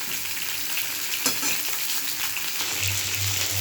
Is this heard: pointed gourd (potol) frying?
yes